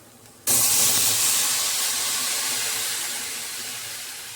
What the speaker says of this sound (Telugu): ఇప్పుడైతే దీనిలో నేను హాఫ్ కప్ అయితే పాలు అయితే పోసుకుంటున్నాను